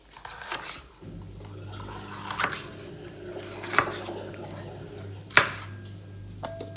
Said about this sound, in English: No one likes chopping peppers.